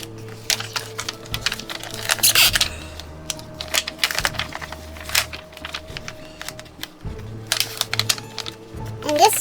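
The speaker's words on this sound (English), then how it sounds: "So I'm just going to lift up this vinyl and just pull." Cut iron-on vinyl being lifted and peeled off its carrier sheet with a Cricut weeding tool for a Halloween T-shirt, giving a run of close, crackly tearing and ticking bursts with small taps between them, and a faint steady hum underneath.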